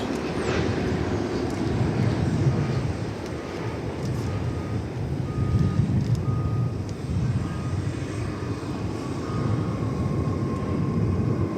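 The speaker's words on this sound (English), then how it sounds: "See if it lifts off before it gets to Terminal D. There it goes." A jet airplane rolls down the runway and lifts off at DFW Airport, a steady broad engine roar holding loud and even throughout with a deep rumble underneath, heard from a spotting position with no talk.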